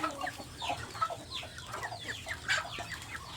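Chickens cluck and fuss in a rural backyard farm, a busy overlapping flock close by with scattered calls and no talking over them.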